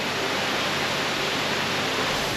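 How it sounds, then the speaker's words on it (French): Several small cascades pour steadily in a flowery natural setting, a continuous broadband rush of falling water, close and even, with no voices. "C'est magnifique parce qu'il y a plein de bébés cascades en fait."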